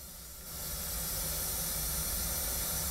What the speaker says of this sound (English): And there you can see the pink noise coming through.